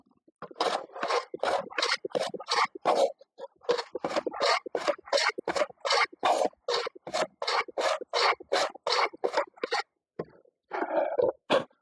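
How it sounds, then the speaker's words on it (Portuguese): A traditional hand plane shaves the end grain of a wooden board, cutting curls across the fibres, in about two dozen steady, close rasping strokes separated by short pauses. "a gente vai meio que aplanando o topo da madeira também, vai saindo um cavaco"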